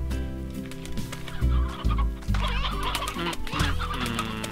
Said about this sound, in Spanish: Nos vamos a llevar un par de gallinas.